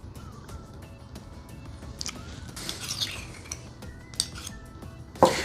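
Barbecue sauce, honey and paprika are stirred together in a bowl for garlic butter BBQ tacos, giving soft steady scraping and a few light clinks of a utensil against the bowl, with no talk.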